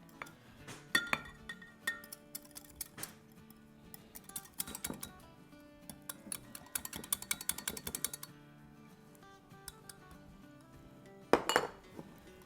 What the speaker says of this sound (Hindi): थोड़ा थोड़ा डालेंगे और थोड़ा थोड़ा हिलाते जाएंगे